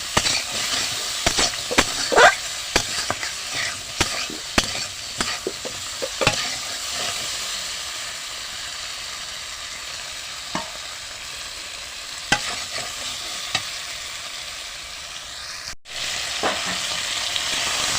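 Koi fish frying in hot oil, a steady close sizzle with scattered pops and crackles, plus occasional sharp scraping as the fish are turned and moved around the pan.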